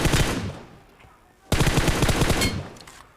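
Automatic gunfire rings out in the shooter game BGMI in two loud bursts of rapid shots, with a brief lull between them.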